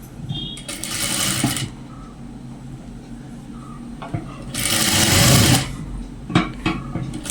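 A new sewing machine runs in two loud bursts as it stitches a blouse during tailoring, with quieter fabric handling and clicks between the runs.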